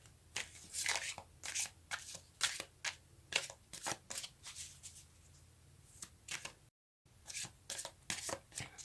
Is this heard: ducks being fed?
no